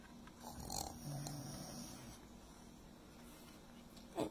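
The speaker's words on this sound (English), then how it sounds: "but the bear snores on." A bear snoring in a cave, with a faint, low, steady rasp and soft breathy texture, quiet throughout with a brief louder snort at the end.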